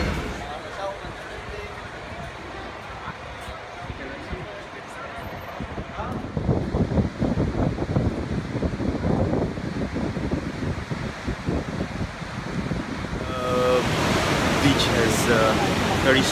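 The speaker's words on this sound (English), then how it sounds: "Very strong waves here in Bondi." Strong ocean surf at Bondi Beach roars as a broad, steady wash, with wind buffeting the microphone and the crash growing louder midway through and swelling again near the end.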